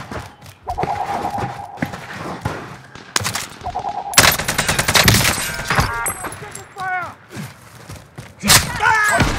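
Rapid automatic gunfire bursts and single shots in a Call of Duty Warzone match on Rebirth Island, loud and close, mixed with thuds, footsteps and a radio-style voice.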